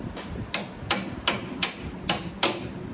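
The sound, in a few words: hammer tapping CV axle on Ford Fusion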